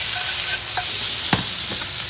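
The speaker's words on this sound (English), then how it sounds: "I like kind of put the ribs in there, saute a little bit, kind of sear it a little bit." Baby back ribs sear in a pot with a steady, close hiss, broken by a few soft clicks and one sharper scrape of a utensil near the middle.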